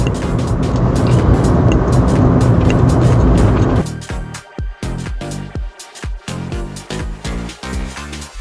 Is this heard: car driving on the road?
yes